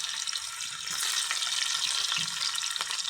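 Onions sizzle and fry steadily in hot oil with mustard seeds and curry leaves, a dense crackling hiss that holds throughout with a few brief stirring clatters and no talking.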